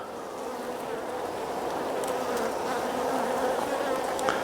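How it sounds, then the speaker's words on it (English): Steady, dense buzzing of many honey bees clustered around their queen close by, a continuous droning hum with no pauses. "you can see that the bees are around her at the moment"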